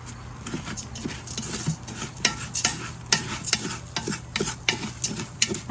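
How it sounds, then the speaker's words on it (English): Cuban rice seasoned with a pinch of garlic powder is stirred in a pot: a close run of repeated scraping, clattering strokes over a low steady hum, with no talking. "So I stir a little bit more."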